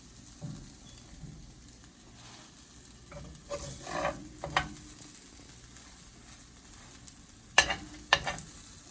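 A French toast omelette with cheese folded over in a buttered frying pan: soft scraping and stirring with a few sharp utensil clicks over a quiet sizzle, with no talking.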